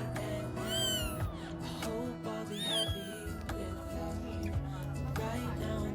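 A cat meows repeatedly indoors, several rising and falling cries close by, with soft household background noise underneath.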